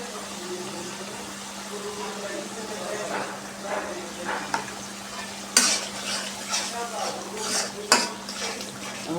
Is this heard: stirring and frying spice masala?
yes